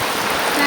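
A brief burst of steady rain falls in a village, a dense hiss of drops close by, with nothing else standing out.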